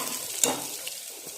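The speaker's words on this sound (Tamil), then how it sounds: "ஒரு எண்ணெய் விட்டுட்டு கடுகு சோம்பு போட்டு அது பொரியவும்" Hot oil sizzles and crackles softly in a pan nearby as mustard seeds and fennel seeds fry, with one sharp pop standing out.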